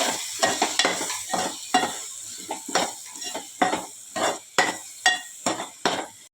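Chopped potato for misal fries in a pan and is stirred repeatedly, giving rhythmic scraping strokes over a sizzle, loud and close with no voices.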